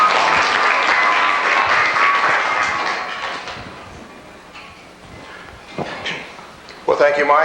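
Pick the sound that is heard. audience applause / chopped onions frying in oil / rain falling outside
audience applause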